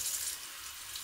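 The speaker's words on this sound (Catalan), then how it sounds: "Obrim l'aixeta" A water tap is opened at a sink for handwashing, releasing a steady splashing stream of running water that is close and clear, without speech.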